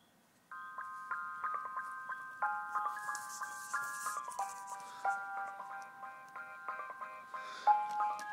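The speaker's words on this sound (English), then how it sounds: "Here's the beat." A hip hop beat plays from a small speaker, a thin, tinny chime-like melody over steady rhythmic pulses that repeat in a loop, fairly faint and without talking.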